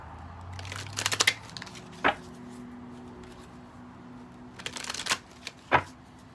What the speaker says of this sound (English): let's pull some cards